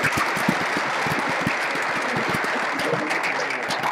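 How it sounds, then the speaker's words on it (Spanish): Audience at the OSHWDem 2016 line-follower robot event applauding, dense continuous clapping that is loud and close, many hands striking rapidly for several seconds. "Un aplauso, Alejandro"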